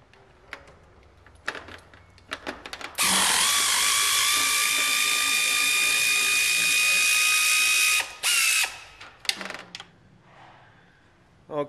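A power ratchet spins out a 12-point bolt from the upper steering shaft of a 1976 Ford Bronco, a loud sustained high whine lasting about five seconds, bracketed by short clicks and metallic taps of tool handling.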